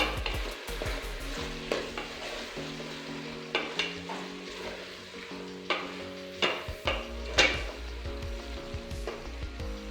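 A beef mix fries in a pan and is stirred. A low sizzle runs under repeated clanks and scrapes of a utensil against the pan, with a steady hum in the background.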